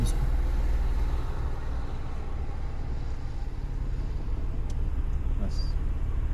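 A car engine drones low and steady as the clutch is slowly let out during a driving lesson, with a constant rumble and no clear revving.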